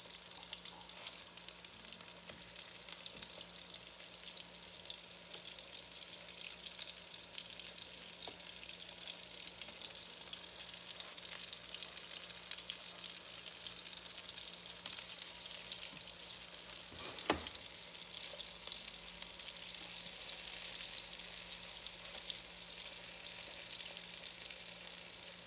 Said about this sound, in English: And it doesn't take any time at all to get these browned up.